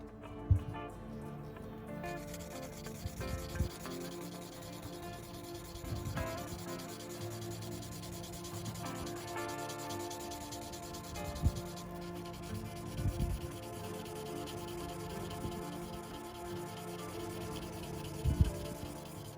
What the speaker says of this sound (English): I'm starting off with a 4000 grit sandpaper